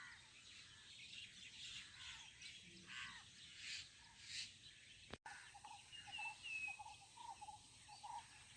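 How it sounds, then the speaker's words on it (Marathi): Several birds chirp and call in the open over a cowpea field in the Konkan countryside, with short bright notes scattered over a steady outdoor hush and a brief knock midway. "तर पक्ष्यांचा आवाज बघा किलबिलाड"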